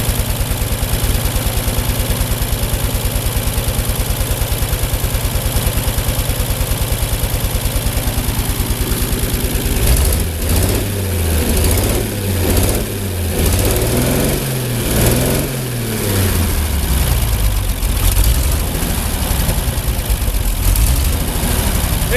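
A Ford 8N tractor engine idles steadily with a loud, even low chug, its speed later wavering and surging unevenly in the second half as the governor hunts.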